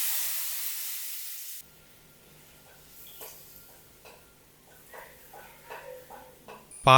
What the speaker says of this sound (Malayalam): ഇനി ഇതിലോട്ട് നാളികേരപ്പാൽ ഒഴിച്ചു കൊടുക്കുക